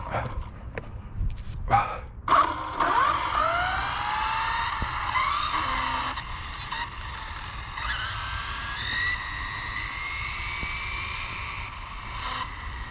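A stretched Rlaarlo AK-917 RC car running on 4S power makes a night speed run, its motor whining in a loud high-pitched drone that rises and sweeps after a few short bursts and skids.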